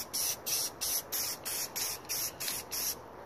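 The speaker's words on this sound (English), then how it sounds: "Couple of light, quick sprays." A spray paint can sprays a Glock pistol slide in about eight short, even hissing bursts separated by brief gaps, close up and with no talking.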